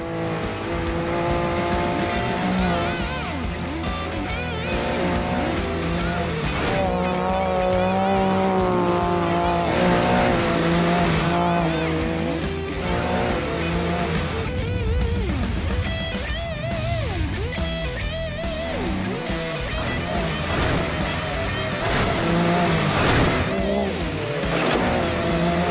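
A VW Beetle Baja Bug with a Can Am engine races at nearly 55 mph toward a tabletop jump, its engine roaring loud and steady throughout, with revving, shifting pitch and tire noise from up close.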